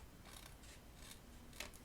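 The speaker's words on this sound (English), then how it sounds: "So I'm going to trim that off with my paper snips." Paper snips trim the edge of a paper craft piece, giving a few soft, quiet snipping cuts spaced through the clip, heard alone.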